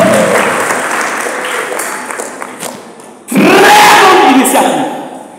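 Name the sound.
congregation applauding the parish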